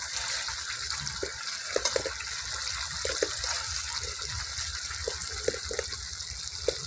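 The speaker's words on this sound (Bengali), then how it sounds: "এবার আমি চিংড়ি মাছটা দিয়ে দিব" Prawns, large freshwater lobster-style gol chingri, hit hot oil and cooked masala in a pan, giving a steady broad sizzling hiss with a few soft clicks and knocks of a spoon throughout, close and continuous.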